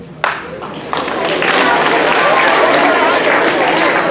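Applause rises from an audience at a whole-school meeting, starting with a few scattered claps that quickly swell into a dense, sustained wash of clapping.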